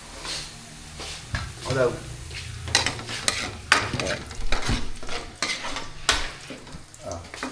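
Utensil scraping and stirring chicken adobo sizzling in a frying pan at home, irregular clinks and scrapes over a steady sizzle, with people talking nearby.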